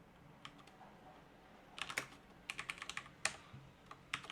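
Quiet computer keyboard typing as a script is written: a few isolated keystrokes, then brief rapid bursts of clicky taps, close and soft with no talking.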